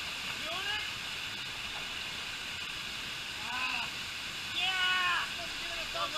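A waterfall roars in a steady, close, broadband rush throughout, with excited voices calling and shouting over it at intervals.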